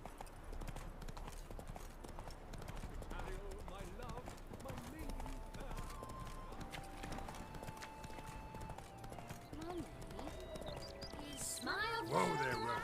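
A horse's hooves clip-clop at a steady riding pace in The Witcher 3: Wild Hunt. The rhythmic footfalls continue throughout under occasional game voices and ambient sounds.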